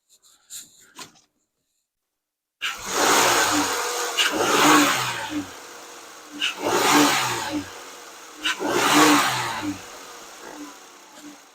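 After a few faint clicks and a pause, a 2015 Jeep Cherokee Latitude 3.2L engine, just repaired after a rocker arm replacement, starts and runs close by, rising and falling in repeated revs.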